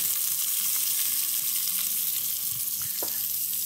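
Steady crackling sizzle of onions frying in a hot pan, with a few soft stirring scrapes and no voices.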